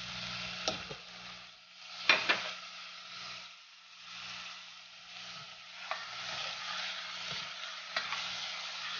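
Chicken pieces frying and being stirred in a pan for lugaw, a steady sizzle broken by scraping stirs and a few sharp utensil knocks, close and alone without talk.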